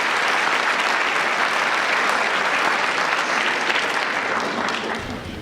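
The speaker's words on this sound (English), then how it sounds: "I think he deserves another round of applause." Dense audience applause at a school service rally, steady and full throughout before easing off in the final half second.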